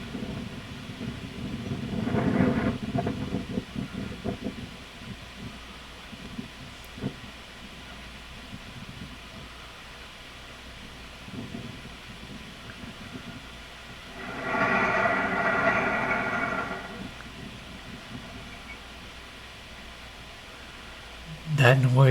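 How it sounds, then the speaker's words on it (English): A barge stabilizer leg lowering into a canal floor at Leisure Beach, Hudson, Florida, heard as two broad rumbling, grinding surges at a distance, the second longer, over a quiet outdoor background. "That noise was one of the stabilizers on the barge that is floating, going down to lock into the canal floor"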